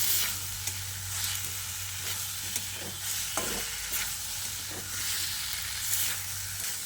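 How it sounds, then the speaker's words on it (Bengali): Fried taro and potatoes being stirred with spices in a hot pan, a close steady sizzle broken by repeated scraping strokes of a spatula at an uneven rhythm, with no talking. "ভাজা আলু আর কচুটা দিয়ে আবারও মশলার সঙ্গে ভালো করে নেড়ে চেড়ে মিশিয়ে নিতে হবে।"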